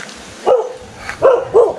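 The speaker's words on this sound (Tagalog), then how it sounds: "May aso." A dog barks a few times outdoors in a mountain setting, with three short yelping barks at moderate distance and quiet pauses between them.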